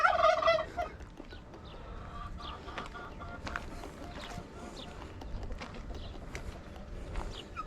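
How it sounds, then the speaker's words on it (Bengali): Farm turkey at a lakeside restaurant in Casablanca, a loud burst of gobbling right at the start, then quieter clucks and rustling with a voice speaking faintly in the background. "এটা টার্কি কুর কুর কুর কুর"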